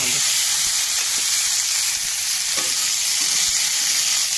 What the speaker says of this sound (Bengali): তো এখানে বেগুন পাতলা করে কাটা আছে, শিম কাটা আছে, আলু কাটা আছে। আমি তেলে দিয়ে দিই,